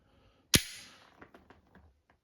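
A Glock 42 .380 pistol's trigger is pulled until the shot breaks with one sharp, loud bang that decays quickly, followed by a few faint clicks of the trigger resetting.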